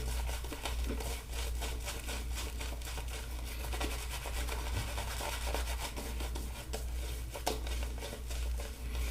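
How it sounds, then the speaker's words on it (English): A floppy shaving brush works Myrsol Don Miguel 1919 shave soap into lather with light painting strokes, giving a soft, continuous wet swishing and rubbing with faint crackles, close by and quiet. "Just using the brush lightly because it is so floppy, a lot more sort of painting than hard scrubbing."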